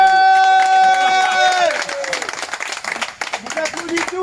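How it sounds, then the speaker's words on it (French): An audience at the finish of the Trans Martinique race breaks into applause and cheering, a dense crowd of clapping that follows a sung or held tone and continues loudly to the end. "vous applaudissez tous."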